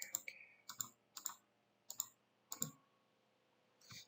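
A computer mouse clicking during 3D modeling work, several sharp, crisp clicks in small clusters separated by short pauses, close and quiet against a near-silent background.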